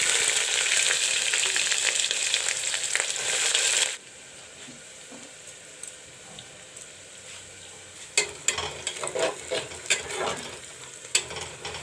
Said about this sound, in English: put 3 dry red chilies, and put in the sliced onion.